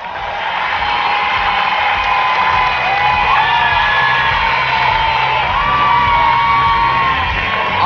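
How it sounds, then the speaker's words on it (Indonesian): A studio audience at an Indonesian comedy talk show cheering, whooping and yelling together in a loud sustained roar at rehearsal, with shouted voices rising through it and little distinct clapping. "sekarang kita latihan tepuk tangan."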